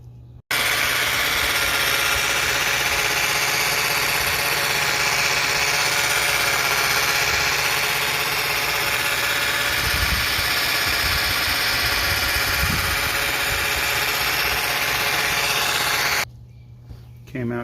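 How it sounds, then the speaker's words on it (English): Yellowed headlight lens being buffed with a power buffer, a steady loud whirring drone with engine-like vibration that runs continuously for about sixteen seconds, then cuts off abruptly. "And you start buffing it."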